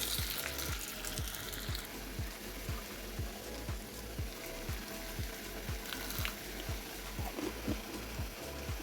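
Flattened onion fritters (piyaju) made from chana, masoor and khesari lentils frying in hot oil, a continuous bubbling sizzle with a regular ticking rhythm running steadily underneath, no voices.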